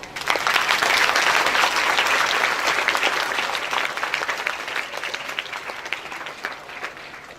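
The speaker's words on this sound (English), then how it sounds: "give yourself a huge round of applause" Students at a school investiture ceremony applaud in a large hall, a dense, loud wash of many hands that holds steady for several seconds and then gradually tapers off.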